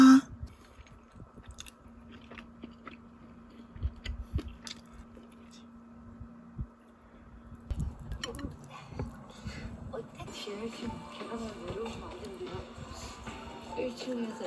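Eating a Korean home meal of thin-sliced pork stir-fried with egg, fresh kimchi and seasoned bean sprouts, with soft close-up chewing and squishy bites repeating through the clip and a low room hum behind.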